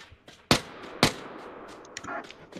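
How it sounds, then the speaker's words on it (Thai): Gunfire in the mobile shooter PUBG Lite, with two sharp shots at a steady gap over busy in-game background noise, followed by fainter clicks and rustles. "เสียงปืน"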